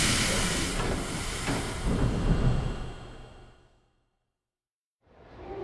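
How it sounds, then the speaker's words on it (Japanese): Train pulling into a Tokyo subway platform bound for Hikarigaoka via Roppongi and Tochomae, a loud hissing rumble that fades to silence before the noise picks up again. "まもなく2番線に六本木都庁前経由光が丘行きが到着します。"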